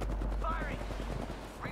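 Quiet bursts of gunfire in Apex Legends Shadow Royale as players shoot at spawning shadows, the shots sitting low under voices talking.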